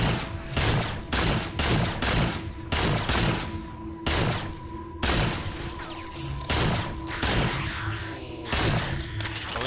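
Halo 4 combat gunfire, repeated loud rifle bursts firing in a steady rhythm of short volleys with brief gaps between them, close and punchy over a faint humming game background.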